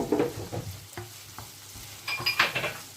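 Onions sizzle steadily in a pan, with intermittent scraping and stirring strokes and a brighter hiss toward the end.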